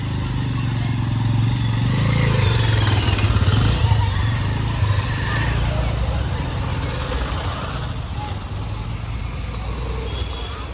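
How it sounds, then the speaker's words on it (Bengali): A motorcycle rides along a road on the way to a fair and puja, its engine droning steadily with passing traffic around it, while people talk over the noise. "আজকে বাইক রেডিং চলছে।"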